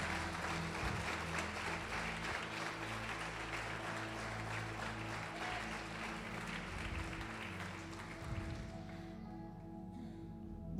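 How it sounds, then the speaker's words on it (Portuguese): A church congregation applauds during a sermon with steady, diffuse clapping over a low hum, heard at a distance and continuing for about ten seconds before trailing off. "Pode aplaudir o Senhor e glorificar."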